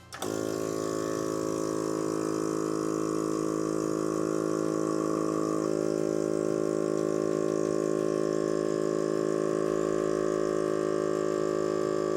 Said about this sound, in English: It will vacuum seal the canister, and then we will remove it.